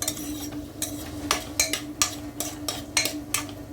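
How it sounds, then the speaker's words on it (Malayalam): Vegetables for vegetable pulao are sautéed in a pan, a spoon scraping and clinking against the metal in a regular series of close strokes over a low background hum. "ഇപ്പം നമ്മൾ വഴറ്റുവാണിത്"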